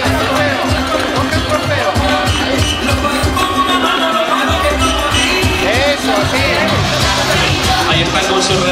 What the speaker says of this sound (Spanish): Fuerte aplauso a todas ellas en el podio Benjamín Femenino.